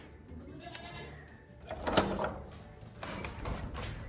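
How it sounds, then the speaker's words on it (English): Goats bleat on a farm after milking, a few moderately distant calls rising over background clatter and shuffling, with one louder bleat in the middle. "We just milked the goats."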